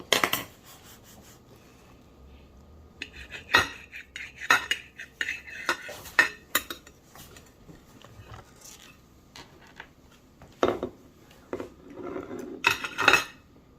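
A knife cutting the first piece of a chocolate cake, heard as scattered near clinks and scrapes of metal on plate and cake board, irregular and separated by quiet gaps.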